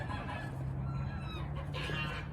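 A pair of aggressive farmyard geese call in a steady run of honks and clucking notes over a constant low background hum, close and moderately loud throughout.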